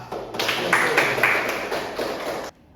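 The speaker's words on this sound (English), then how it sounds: "Please give applause." Classroom group applause at a small-group teaching lesson, a burst of clapping for about two and a half seconds that stops abruptly.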